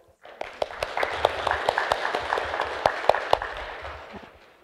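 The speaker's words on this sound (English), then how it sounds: "Should we do a little clap?" Congregation at a church worship service clapping in thanks for new picnic tables, a modest burst of scattered hand claps with distinct sharp individual slaps, steady for several seconds before tapering off.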